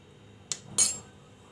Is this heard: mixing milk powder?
yes